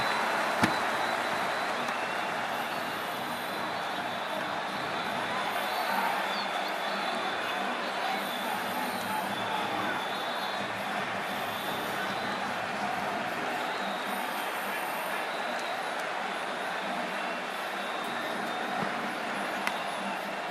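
A cricket stadium crowd in a steady, dense roar of cheering and noise that carries on without a break, with no commentary heard over it.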